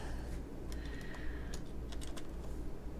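Computer keyboard keys tapped while entering an airport code in the Fly!2K flight simulator, a quiet scatter of light, uneven clicks over a low background hum.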